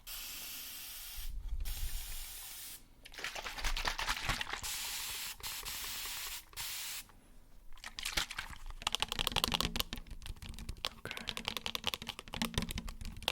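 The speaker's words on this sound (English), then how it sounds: "I'm gonna spray real quick." Repeated short hissing bursts of a spray bottle misting water onto hair, close and fairly loud, interspersed with quieter clicking and rustling.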